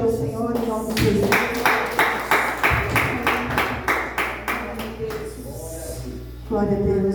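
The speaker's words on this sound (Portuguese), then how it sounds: "Você pode aplaudir ao Senhor em nome de Jesus." Congregation in a church service clapping in a steady rhythm, many hands together and fairly loud, with a sung or spoken voice carrying over the start and end.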